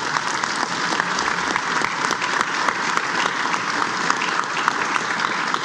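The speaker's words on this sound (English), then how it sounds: "Big round of applause for our guests." Audience applause for guests at a formal State of the Judiciary address, steady dense clapping from a large crowd that continues evenly throughout.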